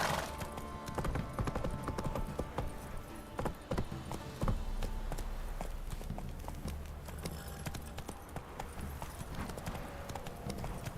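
In The Witcher 3, a horse's hooves beat in a quick, continuous rhythm as it gallops. The sound is close and steady, and a brief whinny rises from it.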